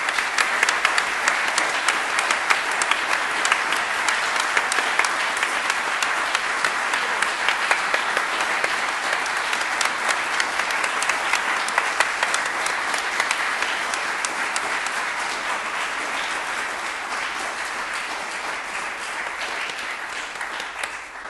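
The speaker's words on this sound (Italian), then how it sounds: "ma ricevi il nostro grande applauso." Long, sustained audience applause at an outdoor villa concert, dense and even clapping from a large crowd that holds steady for about twenty seconds before easing slightly.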